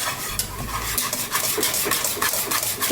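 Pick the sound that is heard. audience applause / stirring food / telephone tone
stirring food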